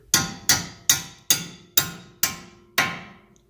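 A hammer taps a bolt through a car's lower ball joint: seven sharp, evenly spaced metallic strikes, close up, each ringing briefly before fading.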